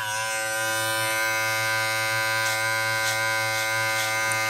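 An Andis Profile electric trimmer shaves a hairline at the bottom of a high-top fade, a loud, steady close-up buzz with a strong hum that runs alone and unbroken.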